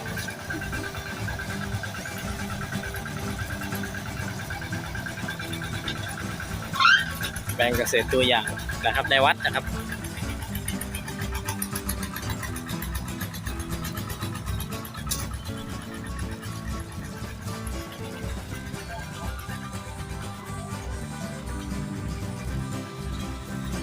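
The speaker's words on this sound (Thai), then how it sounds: "รถไถเดินตามรุ่นเก่า" Old-model two-wheel walking tractor engine running at a farm demonstration plot in a temple grounds, a steady low mechanical drone throughout with a brief louder burst midway, under someone talking.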